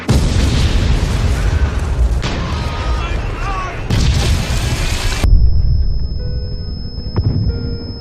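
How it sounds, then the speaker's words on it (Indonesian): Repeated heavy booms and blasts of Second World War battle rumble continuously, loud and close, with some voices mixed in, then the barrage cuts off to quieter distant thuds. "Ledakan terjadi dari berbagai arah seolah-olah langit dan tanah sedang melaknat mereka."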